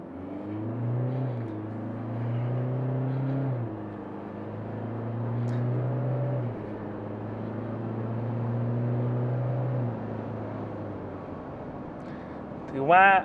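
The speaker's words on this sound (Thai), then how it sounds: "อันนี้เราก็จะมาดูในเรื่องของ0ถึง100 ในตัว ดีเซลไฮบริดนะครับผม" Toyota Hilux diesel mild hybrid pickup accelerating hard from a standstill to 100 km/h, a steady droning engine note stepping up through several gear changes while someone talks over it.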